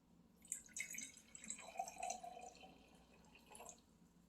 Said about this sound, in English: I'm going to fill one with water